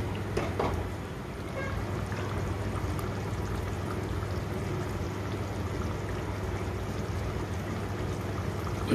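Water from a mixer jar is poured into a drumstick curry cooking with cashews, producing a steady, soft, continuous splashing wash without any talk.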